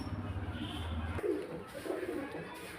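Pigeons at a loft coo in low, soft, repeated calls close by, with faint background noise and a voice in the background.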